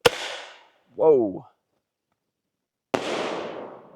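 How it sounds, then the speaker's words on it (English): A sharp pop as a civilian grenade launcher payload fires upward, then after a gap a loud airburst crack like an air bomb firework, each bang trailing off into a hiss, with a brief exclamation between them. "Kind of like an air bomb firework"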